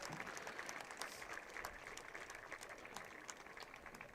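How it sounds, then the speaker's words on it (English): Football fans at an 8-man high school state championship game applaud an injured player as he gets back on his feet, a faint, distant wash of stadium clapping that holds steady throughout. "You hear the applause from the fans showing their appreciation and respect for him."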